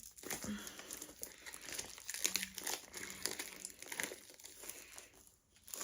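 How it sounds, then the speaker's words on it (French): Someone opens a cardboard box holding seven small storage boxes, with crinkling packaging and rustling handling noises up close and continuing throughout. "Alors, c'est une boîte avec 7 petites boîtes. Je vais essayer d'ouvrir pour vous montrer."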